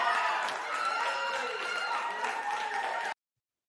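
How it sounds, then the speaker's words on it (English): A cheering crowd sound effect: dense applause, clapping and shouting voices at steady loudness for about three seconds, then cutting off sharply to silence. "And I do got the cheering crowd."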